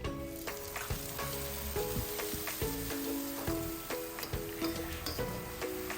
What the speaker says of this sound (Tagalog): bawasan lang natin yung oil sa ating wok at dyan na rin tayo manggigisa. Ilagay na natin yung bawang